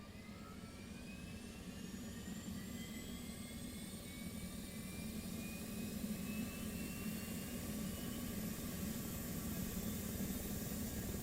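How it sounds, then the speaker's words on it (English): In the DCS World flight simulator, an aircraft APU spools up with a steady jet-like whine that rises in pitch over a constant low roar. It is faint and continuous, with no speech. "Let's get our APU going."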